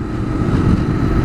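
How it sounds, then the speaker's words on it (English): A motorcycle runs on diesel fuel that fails to ignite in the cylinder, so it sputters and backfires in the exhaust, giving a steady, loud, rumbling engine drone with a rough, popping low-end texture. "this sound I'm hearing is probably the diesel firing after it left, so it's kind of like a diesel backfire"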